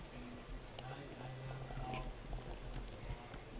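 In a horse-riding video game with an equestrian festival update, a horse's hooves gallop in a steady, quick clip-clop rhythm at moderate volume, with a voice talking faintly underneath.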